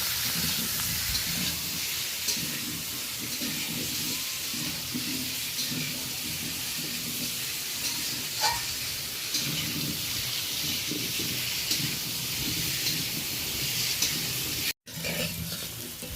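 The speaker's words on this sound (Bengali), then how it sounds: "লবণ হলুদ দিয়ে বেশ কয়েক মিনিট নাড়াচাড়া করে আলুটা বেশ লালচে করে ভেজে নেব।" Potato pieces seasoned with salt and turmeric sizzle steadily in a pan, a dense, continuous crackle of frying with occasional stirring scrapes that lasts the whole stretch, with no voices.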